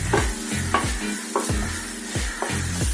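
Turmeric, chilli powder, garam masala and coriander powder stirred into fried onions and ivy gourd in a frying pan, with a soft sizzle and about five evenly spaced scraping strokes, close and without voices.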